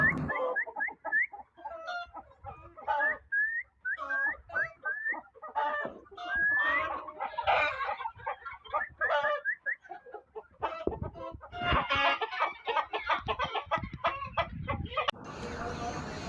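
Kaveri desi poultry on a farm cluck in repeated sharp bursts, with roosters crowing and a busy flock chattering close by, building to a dense, noisy clamor near the end.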